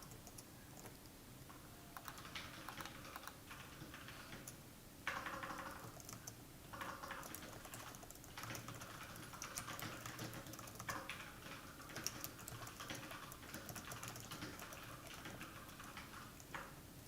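Steady typing on a computer keyboard at a desk, rapid soft clicks running continuously and fairly close, with a few louder bursts of keystrokes partway through; no talking.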